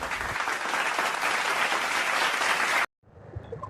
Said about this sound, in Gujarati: અમારા રિપોર્ટિંગ વેલારીભાઈને તાળીઓના ગડગડાટથી વધાવશું